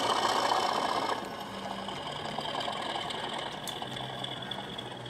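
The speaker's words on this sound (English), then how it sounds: "Now we can listen to the fun sounds of this Deltec locomotive that Robin brought over and Brian leathered." A Deltec HO scale model locomotive hums and chugs on a yard siding, a steady low mechanical drone with faint rhythmic knocking, close and continuous with no talking.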